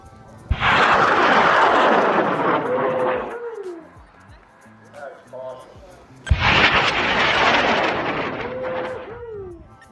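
Two high power rockets, each a 5-inch airframe on a 4-inch M4500 motor, ignite in a drag race launch: a sudden loud roaring burst sustained for a few seconds, fading, then a second equally loud roaring burn follows.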